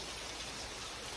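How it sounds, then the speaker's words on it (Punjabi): Steady, even rain falls at a dairy farm in a soft continuous hiss, with no other sounds standing out. "ਹੁਣ ਜਿਹੜੀ ਆ ਬਾਰਿਸ਼ ਹੁਣ ਸਟਾਰਟ ਹੋ ਗਈ ਆ"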